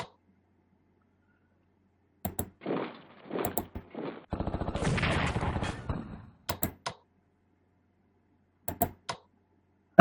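Bursts of gunfire-like rattles and rapid clicking from a bombing attack in the WWII strategy game Strategic Command, with a dense sustained burst in the middle and scattered sharp clicks before and after, no voices.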